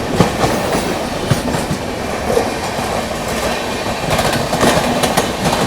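Punjab Mail Express passing on the rails during a monsoon journey, a steady loud roar of wagons with rhythmic clickety-clack of wheels over joints and faint squeals, continuous throughout, no voices.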